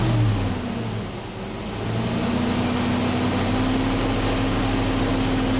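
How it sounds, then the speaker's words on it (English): Chevy engine given a little gas from idle, a low hum that rises into a steady, slightly raised rev and holds there, heard close with no talk. "Give it a little gas."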